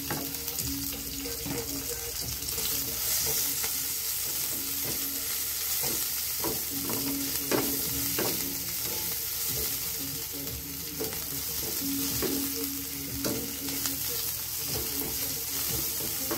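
Garlic sautés in a pan as the base for ginisang pechay, a stir-fried bok choy dish. A steady, close sizzle runs throughout with occasional scraping stirs, and no one speaks.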